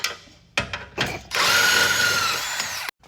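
A power tool removes a suspension bolt and nut on a lower control arm during a BMW X3 M Competition coilover install, with a few short bursts followed by a sustained close whirring run of about a second and a half.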